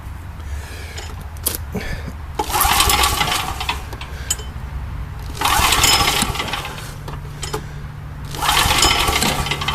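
A small engine with a flooded carburetor cranks and runs unevenly, surging in three loud, rising bursts over a steady low drone, with a few sharp clicks and knocks in between.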